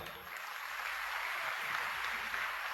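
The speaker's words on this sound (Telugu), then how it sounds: "అందరూ ప్రభున్మయం పరుస్తూ చప్పట్లు కొడదాం" Applause from an audience at a Christian gathering in Chilakaluripet, a steady broadband patter of many hands clapping that holds at an even level throughout, dense and continuous with no voices standing out.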